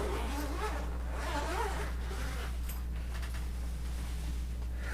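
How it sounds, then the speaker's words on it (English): Zipper on a Fender Player Plus Meteora guitar case being drawn open, a continuous close rasping slide over a steady low hum, with no talking. "Now, where's the zipper?"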